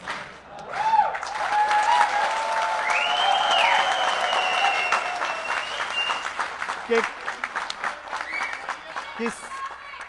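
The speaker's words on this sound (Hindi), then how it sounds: "ये जिस भी लड़के ने मुझे देखकर ताली बजाई, सीटी बजाई है" Audience at a Hindi poetry gathering, a televised kavi sammelan, bursts into sustained applause with rising whistles, loud and dense for several seconds before thinning into scattered claps, with a voice speaking over it.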